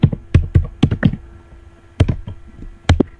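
Bursts of crisp key clicks from a computer keyboard as React code is typed, clustered in quick runs with short pauses between, close and dry with no voices.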